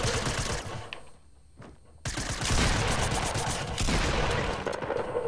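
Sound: gunfire in a video game until out of ammo

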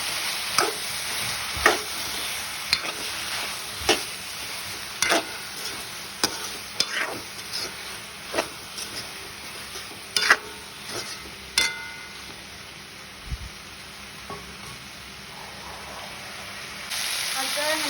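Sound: boiled potatoes being added and stirred in a frying pan

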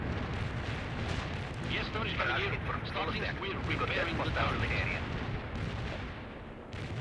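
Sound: artillery fire in video game World in Conflict

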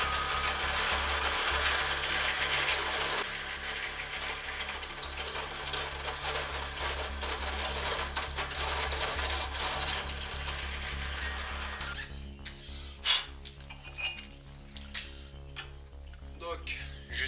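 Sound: drilling steel with Parkside HSS step drill bit

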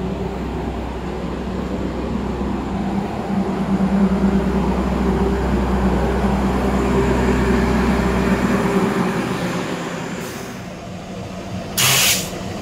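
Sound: Argo Cirebon train departing towards Tegal

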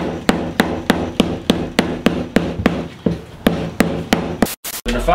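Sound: hammering aluminium foil ball

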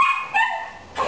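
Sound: miniature schnauzer dog barking

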